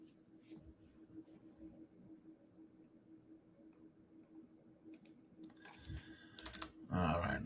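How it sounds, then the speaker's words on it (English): Quick, irregular keystrokes on a computer keyboard tap away at a low level, with a louder burst of clatter near the end. "Bear with me as you hear me typing away here."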